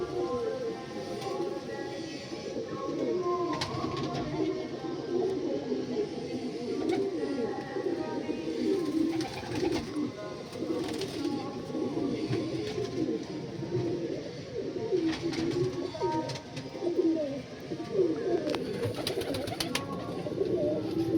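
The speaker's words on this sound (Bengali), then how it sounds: "এই হচ্ছে পায়রা খাচ্ছে।" Punjabi Malwai pigeons kept in a loft coo repeatedly in soft, overlapping low calls that continue throughout, with light rustling and occasional brief clicks.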